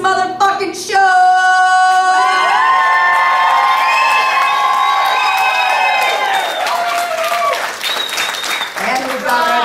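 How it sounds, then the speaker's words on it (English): A burlesque show audience cheers, whoops and hollers loudly with applause, a dense crowd roar that swells and carries on under a few scattered shouts. "Now I want you all to hoop and holler"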